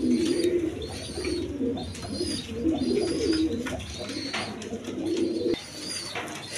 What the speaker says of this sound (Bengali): অনেক ধরনের কবুতর আছে